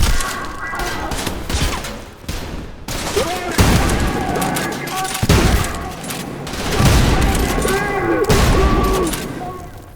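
Indoor gunfire from the video game Arc Raiders, dense bursts of loud, sharp shots and booming impacts overlapping continuously with heavy reverberant tails.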